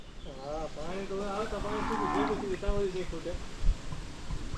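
Several drawn-out, wavering moos from Bhagri buffaloes at a herders' settlement in Gir, rising and falling in a series, with outdoor noise and faint background voices.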